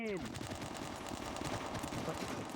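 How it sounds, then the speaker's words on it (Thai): Rapid bursts of automatic gunfire rattle continuously, loud and close, with a video-game quality and a brief electronic sweep at the start, from an online shooter game server. "แต่ผมชอบเสียงปืนว่ะ"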